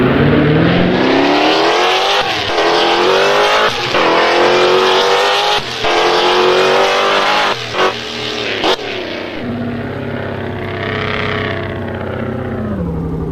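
Race cars in a GT racing video game at Daytona roar without a break, loud and near, the engine pitch climbing and dropping with shifts and brief tire squeals.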